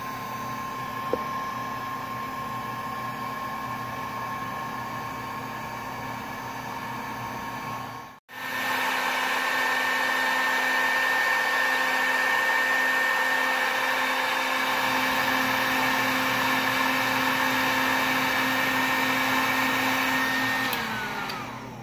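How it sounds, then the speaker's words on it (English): A heat gun blows continuously on heat-shrink tubing over headlight wiring, a steady airy whine that cuts out once briefly and restarts, then carries on at an even level without talk. "take the heat gun, you know, here we go, and then I'll go ahead and fire it up and tube it"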